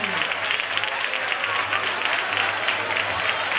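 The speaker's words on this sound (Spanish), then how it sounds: "te vamos a dar un fuerte aplauso ahora" Crowd at a town fair event gives a strong round of applause, continuous dense clapping for several seconds with a low background hum underneath.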